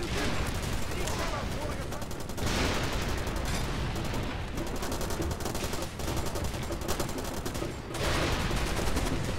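Gunfire in the Far Cry 2 video game, dense and relentless: automatic bursts and heavy blasts blending into a continuous loud barrage with brief lulls, a voice talking over the shooting.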